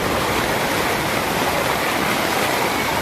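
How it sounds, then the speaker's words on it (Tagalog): Flooded creek rushing after heavy rain, a loud, dense, continuous roar of fast-moving water with no talk over it. "Mapaw na po yung ilog."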